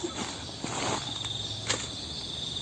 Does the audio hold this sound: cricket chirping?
yes